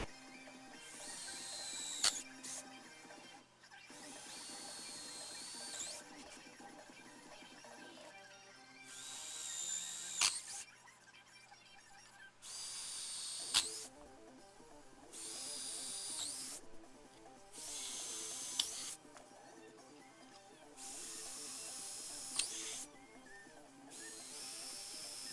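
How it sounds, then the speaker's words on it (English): Power tool bursts, a drill running in short separate runs with pauses between them, while a metal bracket is cut out and drilled for a DIY lever arm GHD foot plate, fairly close and steady. "now that we have our bracket cut out, holes drilled"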